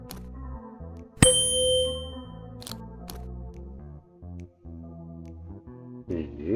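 A metallic instrument struck in a video game to open a hidden wall compartment, giving one sharp bright ring that sustains and fades, surrounded by game music and small clicks.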